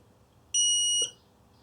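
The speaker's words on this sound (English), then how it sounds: "one of the routines on power up is just to send a little beep to the buzzer there" A small buzzer driven by an Arduino Nano gives a single short, high-pitched electronic beep on power-up in a quiet workshop, clean and moderately loud against faint background hum.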